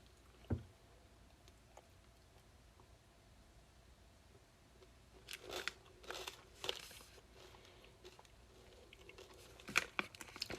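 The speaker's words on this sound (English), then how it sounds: "I'm just chewing on them." Orange cream flavored candies that contain milk and soy being chewed up close: quiet, sparse crunches and soft mouth clicks scattered over a faint background, louder in a cluster of bites toward the end.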